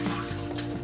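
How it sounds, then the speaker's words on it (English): Water dumped out of the container of a Norwex water filtration unit after soaking, a short, close pour and splash lasting under a second. "So we'll dump the water out"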